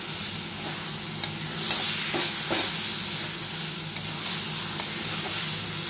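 Taro greens sizzling in a pan as sugar and lemon juice are stirred in, a steady close hiss broken by soft scraping and tapping of a spoon against the pan.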